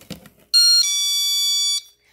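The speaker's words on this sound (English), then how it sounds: "We put an alarm in there." A homemade toy castle door's alarm gives a loud, piercing electronic beep that shifts pitch partway and holds for about a second, following a faint click of the door.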